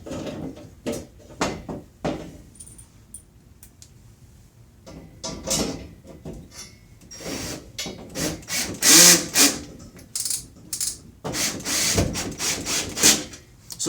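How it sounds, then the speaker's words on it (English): Regular screws are driven into a wall stud through pre-drilled pilot holes while closet shelf track is installed. Close, uneven bursts of driver whirring and creaking are broken up by clicks and handling knocks, with no speech. "I'm just going to go ahead and use regular screws to screw right into the stud"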